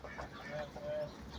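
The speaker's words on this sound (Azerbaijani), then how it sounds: "Hinduşkalarımızdır." Turkeys and a few chickens call faintly in a farmyard, soft clucks and short gobbling tones over low background noise.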